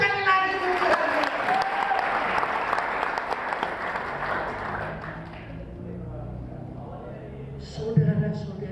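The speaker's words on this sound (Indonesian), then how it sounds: "Tepuk tangan dulu sekali lagi untuk Tuhan Yesus." A Sunday worship congregation at a GBI church in Pematangsiantar claps together, a dense sustained round of applause for about five seconds that thins and fades out under a speaking voice.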